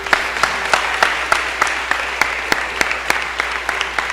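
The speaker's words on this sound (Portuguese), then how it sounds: "Vamos aplaudir a Jesus." Church congregation applauding together at a Sunday service, a dense, steady wash of many hands clapping with sharp individual claps punctuating it, sustained and fairly loud throughout.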